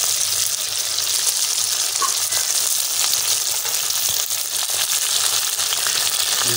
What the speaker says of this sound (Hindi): साथ में हम मिर्च भी साथ डाल देंगे।